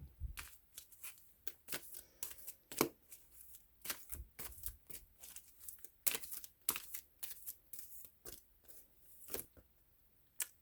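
Oracle cards being shuffled and drawn by hand, a run of crisp irregular riffles, snaps and slides with short pauses between them, close and fairly quiet, with no talking.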